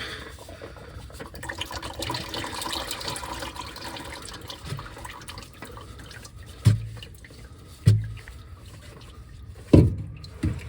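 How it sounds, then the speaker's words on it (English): Motor oil draining from a car into a drain pan, a steady trickle of liquid punctuated by a few distinct, louder drips spaced a second or two apart near the end. "Let that drain for a minute, and then we'll put the new one on."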